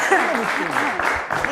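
A quiz-show studio audience claps loudly and evenly for the Faedis team during a brief, close burst of applause, with a voice heard over it.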